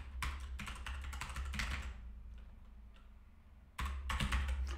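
Typing on a computer keyboard, a close run of quick clicking keystrokes that pauses briefly for about two seconds before resuming with a fresh flurry.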